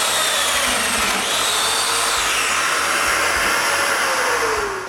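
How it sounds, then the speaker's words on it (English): A domino joiner cutting mortises into wooden table legs for a mitre station: a loud, close, continuous high-pitched motor whine with shifting pitch as the cutter plunges into the wood. "all my joinery will be done with domino mortises"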